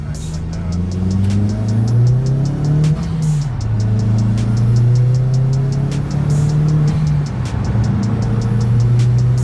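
Mk1 Audi TT 225 8N pulling onto a highway, its engine droning loud and close as revs climb and drop through several gear shifts, with rising harmonic sweeps broken by brief shift pauses.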